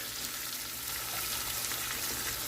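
Crushed whole-head garlic sizzles in a hot pan with tomato paste for beef short ribs, a loud, steady, close frying hiss with no voices.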